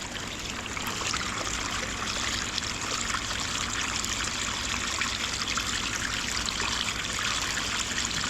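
Water trickles and flows steadily through a sluice carrying dirty scrap copper, a continuous close hiss of running liquid with no pauses throughout.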